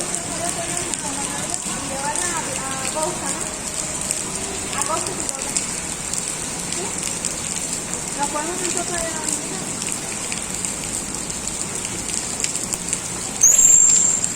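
Heavy rain pours steadily in Cuba during intense storms, a dense, continuous patter on surfaces lasting throughout, with muffled speech faintly underneath.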